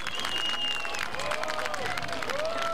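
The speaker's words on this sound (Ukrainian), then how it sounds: "Так, ваші оплески" Spectators at a speedway race applaud, an even wash of clapping and crowd noise running under overlapping voices and whistle-like tones for a few seconds.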